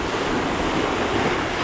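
Big rolling ocean waves wash and surge around a Hallberg-Rassy 54 sailboat under sail in the Bahamas, a steady loud roar of surf mixed with wind noise, with no voices.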